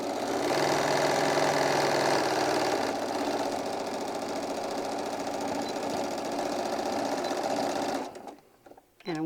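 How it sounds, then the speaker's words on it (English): A sewing machine stitches pocket lines into fabric in a fast, continuous whirring run, then stops near the end. "I'm going to stitch on both of the lines that we drew to make our pockets."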